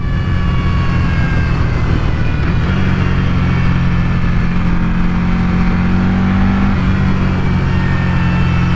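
A Buell Hammerhead 1190 motorcycle with a torquey 1190 engine drones steadily while being ridden, a loud, close, continuous engine hum mixed with wind rush and a slight pitch rise near the end, with no talking.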